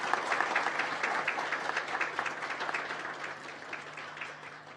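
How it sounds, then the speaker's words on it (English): Audience applause at an annual college tech fest, a steady crowd of hands clapping throughout, somewhat distant and soft, with a faint low hum beneath and no talk. "So give a big round of applause to both of them."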